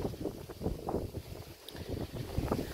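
Strong gusts of wind in a vegetable garden buffet the microphone in irregular low bursts, a loud blustery roar filling the whole clip.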